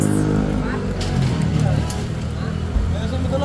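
A Yamaha R6 motorcycle engine runs right after a tune-up and preventive maintenance, giving a steady, close, rumbling idle while someone talks over it.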